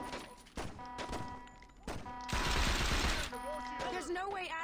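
Gunfire in the video game Saints Row 2 comes in loud, sharp bursts, with one long rattling volley in the middle, while a voice talks between and over the shots.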